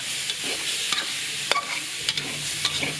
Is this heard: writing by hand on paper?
no